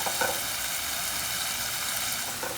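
Seared beef frying in a pan for polenta, a dense, steady sizzle with faint stirring, heard up close with no talking.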